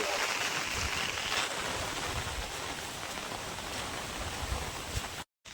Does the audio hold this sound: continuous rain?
yes